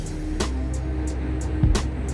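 Busy New York City street while riding through Queens, with a steady low rumble of traffic, repeated short hissing bursts, and a brief swelling engine or horn tone near the end.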